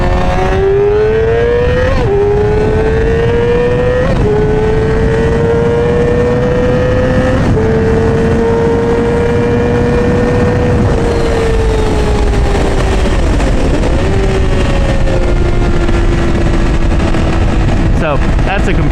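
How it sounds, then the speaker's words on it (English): A 2009 Yamaha R6 sport bike revs hard at high RPM, its loud, steady engine whine sliding up and down in pitch with a few sharp shifts, continuous and close for the whole stretch. "Now I can compare that high RPM."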